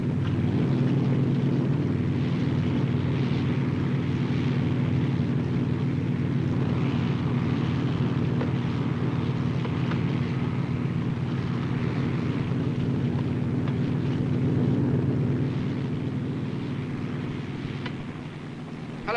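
A helicopter arriving at a military landing, its steady low rotor throb and engine drone filling the air loudly and continuously before easing slightly toward the end.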